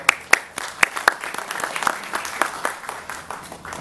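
An audience at an AI meetup on health care gives brief applause, with sharp scattered claps that start loud, then thin into a lighter patter and fade.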